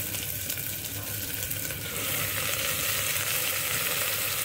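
Onions and spinach sauté in a pan with a continuous close-up sizzle that grows slightly louder and brighter partway through, with light stirring underneath.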